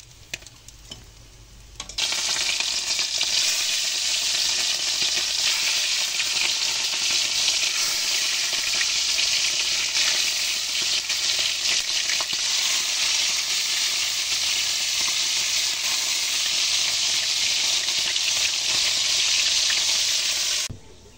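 Fish fries in a pan with a loud, steady sizzle that starts abruptly after a quiet moment and crackles continuously until it cuts off near the end.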